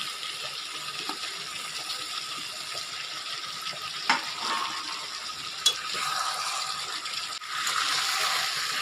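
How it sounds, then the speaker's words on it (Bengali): Spice masala with potatoes sizzles and is stirred in a pan, a steady moderate fry with a couple of sharp utensil scrapes and a brighter hiss swelling near the end. "এবার মশলাটাকে আমি ভালো করে কষিয়ে নেব।"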